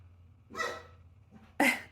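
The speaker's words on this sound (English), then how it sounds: "My dog's gonna keep barking now because she's like, oh, who was that?" Pet dog indoors barking at a neighbour, two short, fairly close barks about a second apart, the second sharper and louder, over a faint low hum.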